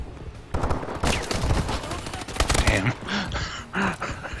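Call of Duty gunfire crackles in dense, rapid bursts, loud and close, mixed with other game effects and a voice talking over part of it.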